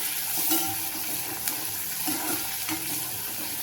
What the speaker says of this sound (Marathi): हे बघा मस्त मध्ये टॅमॅटो पण परतून घेते